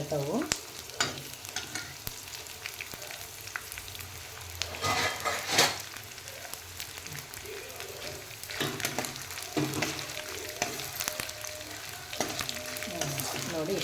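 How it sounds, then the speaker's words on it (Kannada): Edible gum pieces fry in hot oil for protein-rich laddoos, with a steady close sizzle and bubbling, occasional stirring scrapes and a louder crackling burst midway, no talk. "ಸ್ವಲ್ಪ ಸ್ವಲ್ಪ ಹಾಕ್ಕೊಂಡು ಫ್ರೈ ಮಾಡ್ಕೊಳ್ಳೋಣ ನೋಡಿ ಚೆನ್ನಾಗಿ"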